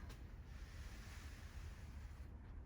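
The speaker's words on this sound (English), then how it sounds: "it is pouring with rain" Heavy rain pouring down outdoors over an orchid greenhouse, a steady broadband hiss and patter that stays constant and fairly faint throughout, with no voices.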